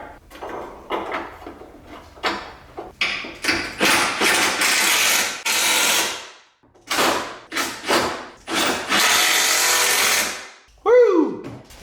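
A power tool drives in the bolts holding the bumper beneath the bumper cover of a BMW E39 M5, giving loud sustained whirring bursts separated by taps and clunks, close up, and ending with a brief rising squeal.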